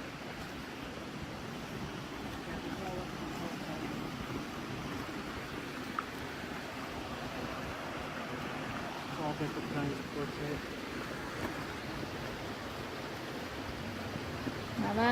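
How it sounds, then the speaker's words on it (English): Water runs steadily over quartzite rocks in a rocky creek, a soft continuous wash heard at moderate distance while people talk over it. "Now that is a rocky creek."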